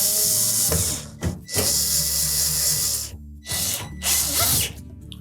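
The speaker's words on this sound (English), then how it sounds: "Now we'll line up the inlet duct assembly. And we'll secure it with the screws." Screws being driven to fasten the inlet duct assembly of a Samsung dryer: a close power driver whirring in several short bursts, separated by brief quiet pauses.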